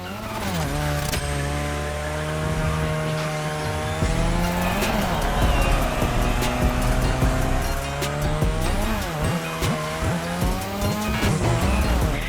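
A car drifting around a drift track in The Crew Motorfest roars with a sustained engine note that rises and falls, its tires squealing steadily through the slides, loud and close with no talking.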